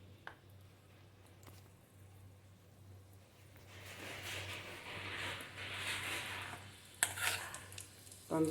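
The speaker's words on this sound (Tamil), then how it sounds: "நெய் காய்ச்சியாச்சு. பம்ப்கின் சீட்ஸு, கொஞ்சம் திராட்சை போட்டுக்குவோம்." Pumpkin seeds and raisins drop into hot ghee and begin to sizzle, a soft frying hiss that swells midway and is broken by a few light clinks of a utensil against the pan.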